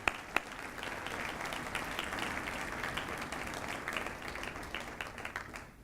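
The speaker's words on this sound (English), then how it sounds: "How about a round of applause for that group?" Steady applause from a sizable crowd, dense clapping holding at an even level throughout with a couple of sharper claps near the start.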